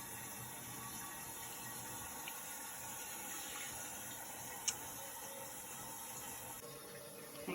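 Water steadily fills a non-electric cool-water bidet, a faint, even trickling hiss that runs on without a break, with a small click partway through.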